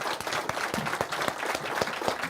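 Audience applause for two candidates at a mayoral debate in the Mary D. Fisher Theater in Sedona, a dense, steady clapping crowd filling the short stretch.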